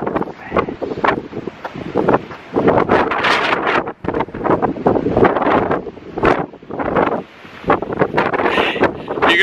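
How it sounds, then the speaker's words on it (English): Strong wind buffets the microphone at an abandoned military base in loud, continuous gusts, roaring and rumbling with brief dips between blasts. "It's so windy."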